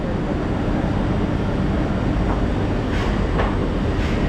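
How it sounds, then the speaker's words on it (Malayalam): A large train rumbles through a Paris station, a loud, steady low roar with faint higher squeals near the end, heard close and without talking. "ഇതാ വലിയ ട്രെയിൻ കേട്ടോ."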